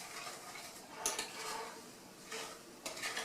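Wet and dry cherry pie ingredients being mixed in a bowl: faint, soft stirring scrapes and occasional light clinks of a utensil against the bowl, irregular and close, with no talk.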